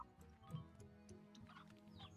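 Chickens cluck in the video game Slime Rancher, soft clucks and little ticking sounds over a faint musical game background.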